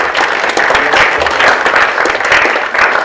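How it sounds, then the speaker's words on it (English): An audience at a low-tech innovation prize-giving ceremony breaks into sustained applause, a dense and loud wash of many hands clapping that holds steady throughout with a faint murmur of voices. "let's clap hands for EFSASEC"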